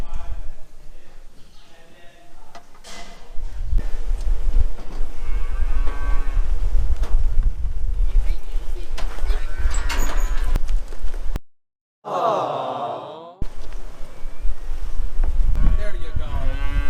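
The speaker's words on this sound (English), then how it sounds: "I just wanted to show you the dairy cows." Dairy cows mooing in a barn, loud close lowing calls over a constant background rumble, with people talking briefly and a prominent drawn-out moo standing out near the end.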